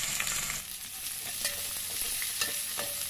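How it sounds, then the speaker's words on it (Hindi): Onion frying in hot oil in a pan, browning for a pulao, with a steady broadband sizzle and occasional scraping stirs, close and continuous without any talking. "प्याज को ब्राउन कर लेंगे।"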